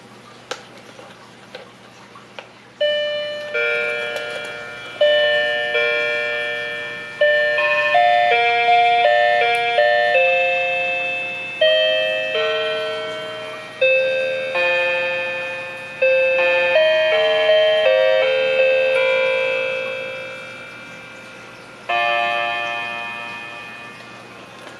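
A repaired mechanical automaton clock movement plays a chiming melody of bright bell-like tones in clear repeated phrases, loud and close, alone with a faint hum beneath.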